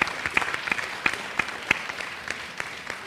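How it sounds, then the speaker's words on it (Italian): Scattered applause from a small festival audience at the ARF! Festival 2024 award ceremony, individual sharp claps in an uneven, thinning rhythm rather than a full ovation, heard alone. "Per cui fatevi un applauso a voi."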